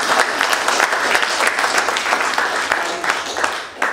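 An audience at a public talk about blacklisting breaks into loud, sustained applause, a dense wash of clapping filling the room for several seconds.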